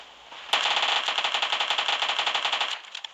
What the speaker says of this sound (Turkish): Arkamdan sıkıyor sandım.